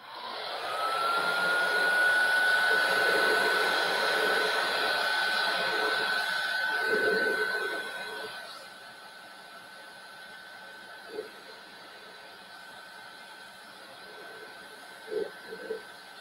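A hair dryer blowing steadily to dry milk paint on a birdhouse, a loud whirring hiss with a whine for about eight seconds, then cutting off to quieter room sound with a few soft knocks.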